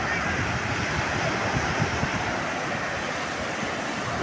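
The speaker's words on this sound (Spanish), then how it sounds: "tiene muchas olas el río de la Plata" Waves rolling onto a river beach at Salinas on the Río de la Plata in Canelones, Uruguay, a continuous steady wash of surf with wind hiss and no voices.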